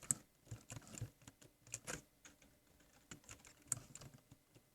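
Quiet, rapid keystrokes clatter on a computer keyboard during a BedWars game, arriving in uneven bursts of light clicks with short pauses between them and no voices.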